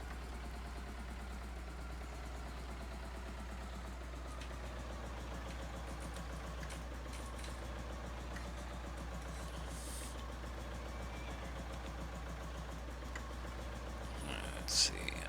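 A small 1940s farm tractor engine runs steadily at a low, even drone throughout, quiet and continuous, with faint talk over it.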